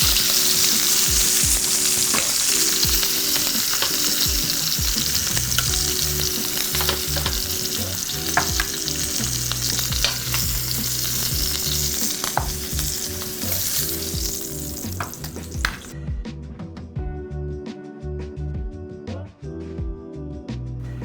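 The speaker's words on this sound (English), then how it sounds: "I seared them on all sides" Beef short ribs sear in a hot pan with a dense, steady sizzle and crackle that runs continuously. Occasional utensil knocks punctuate it, and the sizzle thins and quiets over the last few seconds. No one speaks.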